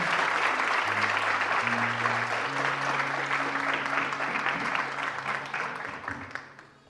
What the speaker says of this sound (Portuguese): Aplaude o Senhor de verdade nessa manhã.